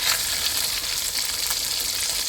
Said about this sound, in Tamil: நல்லா எண்ணெயிலே வெந்து வரணும்.